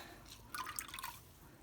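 Dye water from a vinegar and water dye bath drips and trickles off squeezed wool yarn in a brief, soft, close burst of splashy droplets against quiet room tone.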